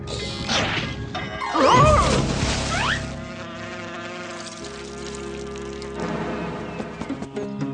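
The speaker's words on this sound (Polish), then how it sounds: "Mamo, nasz komar ucieka!" A cartoon mosquito buzzes with a thin, wavering whine that swoops in pitch, louder early on alongside a sharp smack, then settles under a layer of background music.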